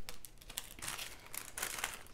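A dryer sheet pulled out and handled near a clothes dryer, giving soft, fairly close crinkling and rustling bursts with no talk over them.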